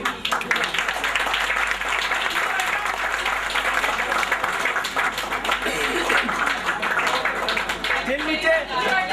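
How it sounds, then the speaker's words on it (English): Applause at a book release event, a steady roar of many hands clapping throughout, with voices talking and calling out over it nearby. "Big round of applause for him."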